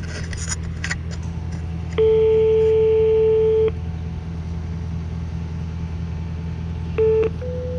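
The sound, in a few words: ringing an intercom doorbell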